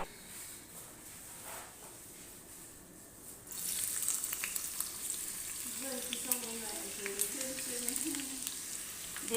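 Oil crackles and sizzles in a frying pan for cooking vegetables, quiet at first and then jumping louder midway into a busy, close sizzle with faint background voices.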